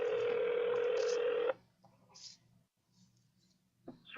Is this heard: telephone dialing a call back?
yes